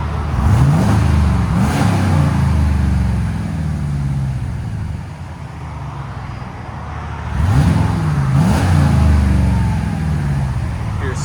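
2022 Jeep Wagoneer with a 5.7L HEMI V8 and Valvetronic Designs true dual exhaust, valves closed: two loud revs climbing and falling, the deep engine roar held between them, close by.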